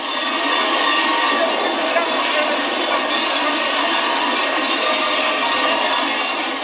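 Dense, steady hubbub from a festive crowd making noise at a celebration bidding farewell to winter fills the clip, a continuous wash of noise with no clear individual voices standing out.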